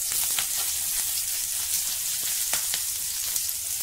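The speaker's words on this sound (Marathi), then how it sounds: "त्यानंतर चवीनुसार मिरची, मिरची व्यवस्थित परतवून घेऊ." Green chilies sautéing in a hot pan for a quick fasting dish, a steady close sizzle with a few sharp crackles and stirring scrapes, no voices.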